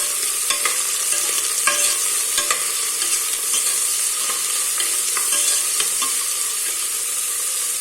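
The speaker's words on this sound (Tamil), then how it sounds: "இதை நல்லா வதக்கி விட்டுறலாம்" Thinly sliced large onions sizzle and fry in a hot pan for kuska, with a constant bright crackle and intermittent scraping stirs of a spatula, close and steady throughout.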